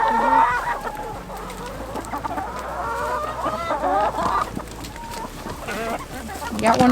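Chickens cluck and squawk steadily near and around a farmyard coop while being herded in with feed, with a rooster's call rising among them; a person speaks briefly over the flock.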